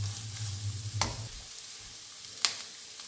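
Onions stirred in a frying pan hiss with a constant sizzle, broken by two sharp scrapes or taps of the utensil against the pan, and nobody speaks.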